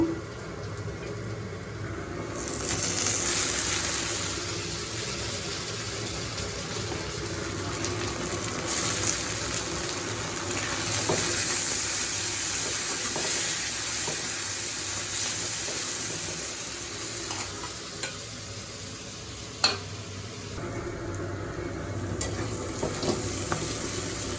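Red lentils lightly frying in a pan after onion, garlic and green chilli, a continuous close sizzle with soft intermittent stirring and scraping, and a single louder clink near the end.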